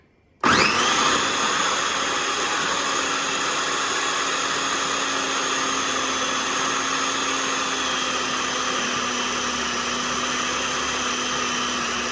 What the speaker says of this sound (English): And we close the food processor.